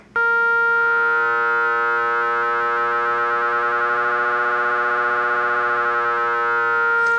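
A steady, bright Korg Minilogue synthesizer tone with oscillator cross modulation hums with rich harmonics and a faint wavering, holding at a loud level for several seconds without any voice.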